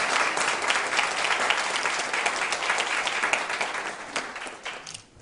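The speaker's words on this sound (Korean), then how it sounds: "큰 박수로 임대형 부장님 모시도록 하겠습니다" A lecture audience at a university applauds to welcome a Hyosung Group manager. The clapping is steady and moderately loud, rolling on for several seconds before thinning out near the end.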